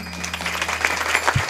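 A kirtan audience and its women cymbal players break into a short burst of dense clapping. The applause runs loud and steady over a low hum and lasts under two seconds.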